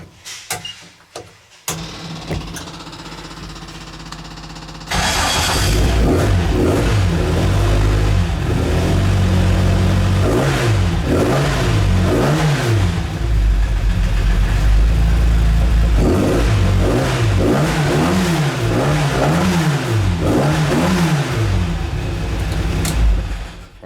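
A classic car engine in a garage starts after a brief rattle, then idles loudly and is revved repeatedly in rising and falling surges for about twenty seconds, with no talk over it.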